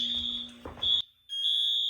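A Firelite MS-5012 fire alarm system sounding indoors, loud shrill electronic tones that pulse on and off in a repeating pattern with a brief silent gap, the pitch steady and piercing.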